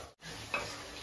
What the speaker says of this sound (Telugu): చూడండి ఇట్లా బాగా ఫ్రై అవనివ్వాలి